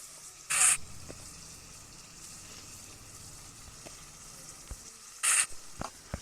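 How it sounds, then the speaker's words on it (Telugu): Ginger paste hits a hot pan for chicken biryani, giving two short, sharp sizzling bursts a few seconds apart, with quiet, faint kitchen stirring in between. "బాగా ఫ్రై అయ్యాక 2 కప్స్ అల్లం పేస్ట్ వేసుకోవాలి."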